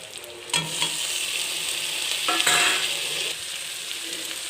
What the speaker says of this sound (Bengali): এবার আমি টমেটোটা অ্যাড করব।